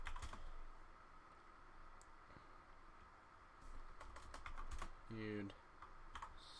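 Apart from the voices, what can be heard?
typing on computer keyboard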